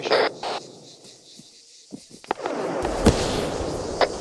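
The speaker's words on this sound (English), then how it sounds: "Grenades out southeast. Grenades going out." Grenades exploding during a combat game, sharp booms and cracks scattered through the stretch, the largest blast near the middle followed by a lingering rumble, heard from moderately close.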